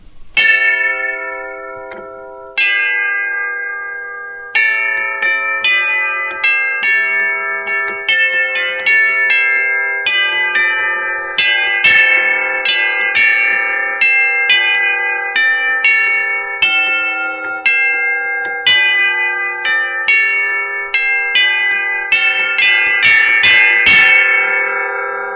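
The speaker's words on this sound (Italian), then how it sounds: "c'è anche questo strumento di campane tubolari con questo sistema di battenti che si" Tubular chimes on a mountainside picnic spot are struck by hanging beaters, ringing out clear, sustained metallic tones in an irregular cascade of many strikes that overlap and decay, loud and close with no talking.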